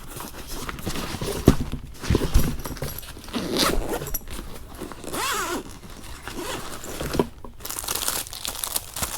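A small carrying pouch is unzipped close up, with several quick zipper runs mixed with crinkling of the bag material and handling rustle, nearby and fairly loud.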